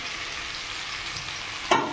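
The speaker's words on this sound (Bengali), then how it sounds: "তো লতিটা আমি লবণ হলুদ দিয়ে লতিটা একটু হালকা ভেজে নিচ্ছি।" Taro stolons (loti) fry with salt and turmeric in a pan, a steady close sizzle throughout with a brief louder crackle and stir near the end.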